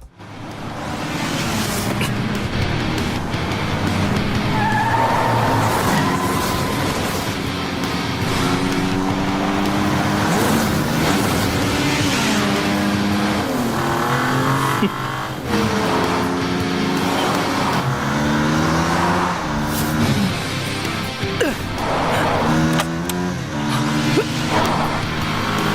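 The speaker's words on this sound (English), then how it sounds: "The race finally began, and both parties picked up speed." Race cars accelerate during a race, engines droning continuously and loudly with rising and falling pitch as they pick up speed, mixed with background music and a voice narrating throughout.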